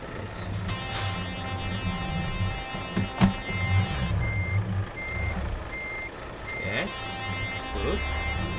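A truck reversing in Euro Truck Simulator 2, its backup alarm beeping in a steady repeating rhythm over a low diesel engine rumble, with occasional brief air-brake hisses.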